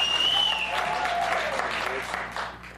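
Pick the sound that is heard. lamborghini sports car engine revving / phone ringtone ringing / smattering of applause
smattering of applause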